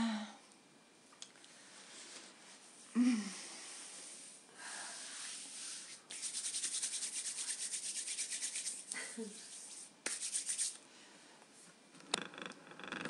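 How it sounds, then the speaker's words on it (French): Hands rub over a face during a guided meditation, giving soft, close, broadband friction swishes in several bursts, with a longer continuous rubbing stretch in the middle and a quiet breath or sigh between them. "Frottez votre visage."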